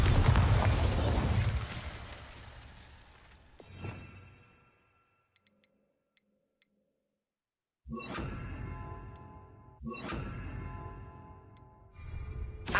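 A Bombarda spell explodes in Hogwarts Legacy: a loud shattering blast fading into near silence with faint ticks, then two more sharp bursts with ringing tails.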